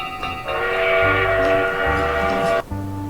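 Animated train rolling in, a loud steady rumble with horn-like tones, running for most of the stretch before a short break and then starting again.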